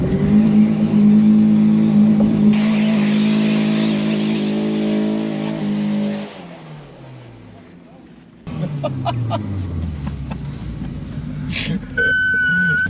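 BTCC Peugeot 406 race car doing a burnout at Santa Pod drag strip, a loud sustained engine drone and revving that drops away, then returns, with people talking over it.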